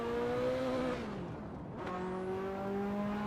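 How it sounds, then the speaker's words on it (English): Simulated car engine in the Assetto Corsa racing game on the Nordschleife, a five-gear car, revs steadily, dips briefly during a gearshift around the midpoint, then pulls again with a rising whine, loud and continuous with no talk. "Engine sounds lovely"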